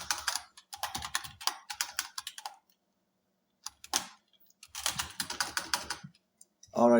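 Code being typed on a computer keyboard: quick close bursts of key clicks separated by pauses, with a brief cluster near the end.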